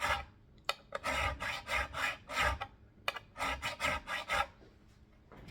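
Fine-grit abrasive rasped in repeated short back-and-forth strokes over guitar frets during leveling, a soft scratchy rhythm of swipes in two bursts with a brief pause between.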